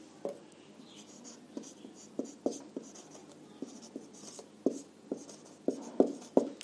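Handwriting during a math lesson: soft, steady scratching of pen strokes with sharper taps now and then, close up and quiet, no voices.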